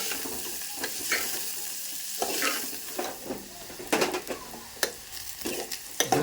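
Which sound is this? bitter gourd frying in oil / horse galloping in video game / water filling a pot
bitter gourd frying in oil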